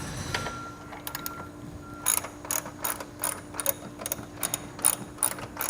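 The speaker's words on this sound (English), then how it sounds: "So, come out with my ratchet. I'm going to remove these bolts here." A ratchet wrench removes bolts on a 2013 Jeep Wrangler JK, a close series of rapid metallic clicking bursts in an irregular rhythm after a brief quieter start, with no talk.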